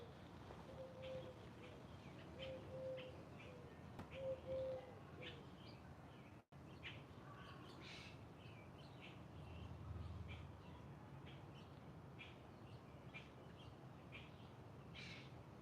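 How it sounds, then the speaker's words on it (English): Dove, common grackle and house finch calling outside a home, faint soft repeated coos early on with scattered distant chirps and calls over quiet background. "So the dove and the common greckle and the house finch."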